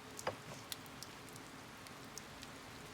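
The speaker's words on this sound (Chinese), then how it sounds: "下雨了。" Rain falling in a quiet setting, a faint steady patter with a few scattered sharper drops standing out against the soft background wash.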